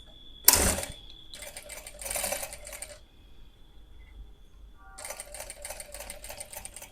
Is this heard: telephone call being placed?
no